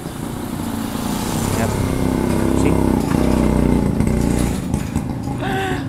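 A trike motorcycle passes by outdoors, its steady engine drone rising and swelling in the middle before easing off, fairly loud and continuous throughout.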